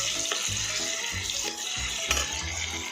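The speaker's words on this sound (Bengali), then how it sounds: "একটু হালকা করে ভাজাই হয়ে গেছে।" Two finely chopped onions frying lightly in oil in a pan, a soft continuous sizzle with faint bubbling and stirring, alone without talk.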